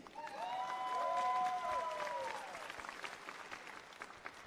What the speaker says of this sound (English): Give an applause to the ladies.